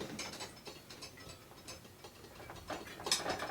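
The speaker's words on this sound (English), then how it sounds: "Push the wheel, sort of pull the chain back, make it a little tighter." A bicycle chain is tightened on a vintage Pinarello fixed-gear bike, producing quick clicking ratchet ticks and small metallic taps in irregular bursts, close and fairly quiet.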